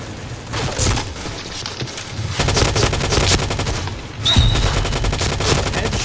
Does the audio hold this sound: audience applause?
no